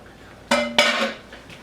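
A lid goes back onto a pan of hamburger steaks with two quick metallic clanks, the second ringing briefly.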